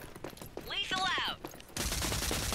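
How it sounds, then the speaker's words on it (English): Gunfire in the video game Rogue Company: a sharp shot bursts out late and carries on as dense crackling to the end, after a stretch of player voices. "Where'd that shot come from?"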